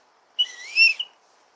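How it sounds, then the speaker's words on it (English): A handheld whistle blown once in a short, bright burst of about a second, with a sliding, warbling tone, heard alone and fairly close. "brought my whistle."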